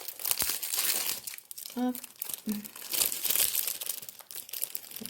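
Plastic packaging being torn open and crinkled, a close, continuous crackling rustle with a brief tearing burst, while a voice speaks over it.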